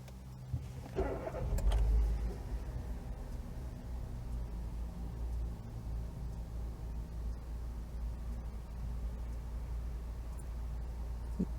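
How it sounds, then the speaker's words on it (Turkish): A 2014 Hyundai i20 1.2 petrol engine idles with a low, steady rumble, after a brief mechanical clunk near the start, continuing evenly throughout. "Bir de rölantine bakalım"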